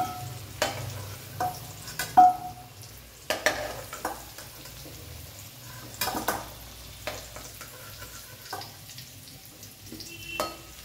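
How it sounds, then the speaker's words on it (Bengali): Potatoes frying in a pan while being stirred, giving a steady close sizzle broken by repeated scraping and clattering strokes of the utensil against the pan. "দেখুন আলুগুলো লাল লাল হয়ে এসছে ভাজা"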